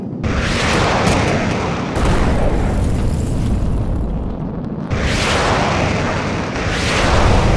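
Building explosions in the jet combat game Air Supremacy 2, heavy booming blasts with deep rumbling tails, several loud detonations rolling one into the next without speech.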